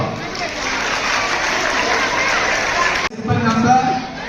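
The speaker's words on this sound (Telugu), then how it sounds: "విద్యార్థులందరూ ఒకసారి జగన్మోహన్ రెడ్డి గారి పుట్టినరోజు తర్వాత ఒకసారి చప్పట్లో" A crowd of students claps and cheers in a dense burst of applause at a chief minister's birthday event that cuts off abruptly, followed by scattered voices and chatter.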